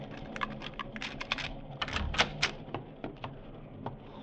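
Train compartment door in a 1949 CBS radio drama being unlocked and opened: a run of small clicks, rattles and knocks, a key working the lock, then a thunk and slide, fairly close and quiet.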